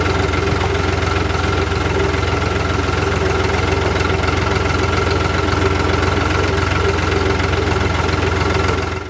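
A vehicle engine idles on a badly damaged, sand-covered road with a tractor nearby, giving a loud, constant low drone with a rough, knocking texture that holds steady before cutting off at the end.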